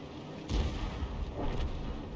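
A Bat.-Châtillon 155 55 self-propelled artillery gun in World of Tanks fires a round, heard as a dull, heavy boom with a rumbling tail and a second thud shortly after, moderately loud.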